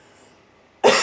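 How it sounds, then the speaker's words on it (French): After near silence, one sharp, loud cough bursts out close by near the end. "je tousse"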